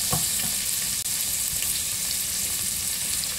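Chopped sweet potato leaves stir-fry in a hot pan with a loud, constant sizzle and an occasional scrape of stirring, close up and without talk.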